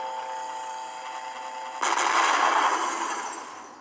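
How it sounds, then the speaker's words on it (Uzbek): A small electric motor rated for 3 to 12 volts, pushed to 15 volts, whines steadily before a sudden loud crackling burst as it blows, and the noise fades away over about two seconds. "Ko'rganingizdek motor portlab ketdi."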